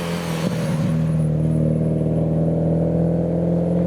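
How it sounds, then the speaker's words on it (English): A loud Mitsubishi Evo rolls out behind a Celica among other JDM cars, its engine a steady, close, heavy rumble with a brief rev blip early on, continuous throughout with no talking. "We've got quite a loud Evo behind the Celica."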